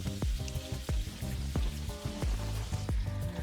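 Filet mignon frying in melted butter with rosemary crackles with a constant sizzle, playing under rhythmic background music with a steady thumping beat.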